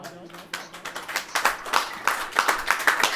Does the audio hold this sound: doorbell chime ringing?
no